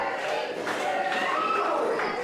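Wrestling arena crowd cheering steadily for the wrestler Dirden, a dense continuous roar with a voice talking over it.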